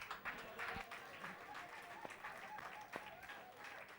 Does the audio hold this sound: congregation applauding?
yes